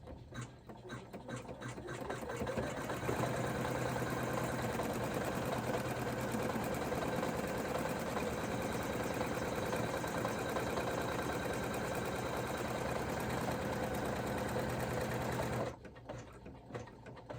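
An embroidery machine runs a basting stitch on a wallet in the hoop, a steady close mechanical whir with rapid stitching pulses that keeps going for about fifteen seconds before stopping.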